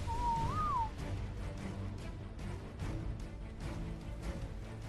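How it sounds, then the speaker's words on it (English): A short whistle command in the video game ARK, a clear rising-and-falling tone near the start, over a constant low game ambience and rumble. "Whistle, follow all."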